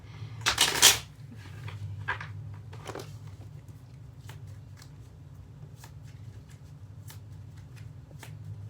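Tarot cards riffle and shuffle in a quick burst, followed by a few softer card taps and slides against a low steady hum.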